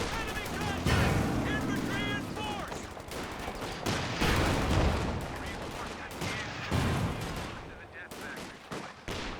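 Bazooka rounds strike a Panzer tank in Company of Heroes amid a dense barrage of loud gunfire and explosions, with sharp repeated impacts and a whistling projectile early on, under continuous battle noise and some voices.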